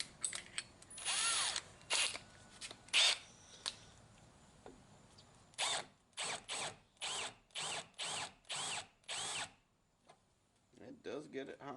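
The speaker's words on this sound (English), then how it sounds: "I'm going to be going backwards in the drill, so it's more just going to crush the fibers" Power drill spinning in reverse against maple wood, run in a series of short, evenly spaced bursts with quiet gaps between, after a few scattered earlier bursts.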